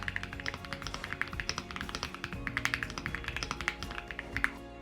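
Rapid, steady keystrokes on a KiiBoom Loop 65 mechanical keyboard with a heavy aluminium body, hot-swappable switches and removable keycaps produce crisp, close clacks in a quick uneven rhythm with no talking.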